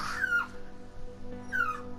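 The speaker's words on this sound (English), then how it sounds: "My dog's really ruining the moment" A dog whimpers in the Minecraft Story Mode video game, two thin, high, falling whines about a second apart over a soft, steady musical background.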